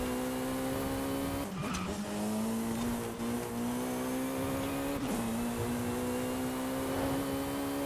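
Jaguar C-X75 supercar in Forza Horizon 5 races along under a steady, loud high-revving engine drone, with pitch dips at gear shifts or corners and brief tire scrubs, no talking.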